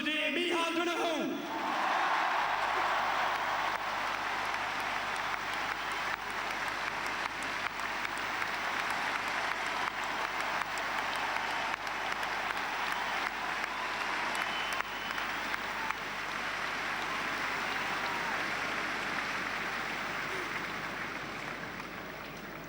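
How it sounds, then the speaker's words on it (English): A large crowd at a Galway hurling celebration after the 2017 All-Ireland final gives its team manager sustained, loud applause lasting over twenty seconds, with cheering in the mix. "you have to give him the biggest round of applause for the day, Micheál Donoghue"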